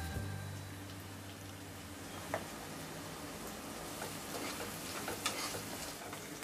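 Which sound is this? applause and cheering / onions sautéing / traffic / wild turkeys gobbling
onions sautéing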